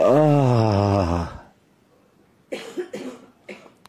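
During a yoga posture, a sustained voiced exhale or groan, then after a pause a burst of three or four harsh coughs close to the microphone.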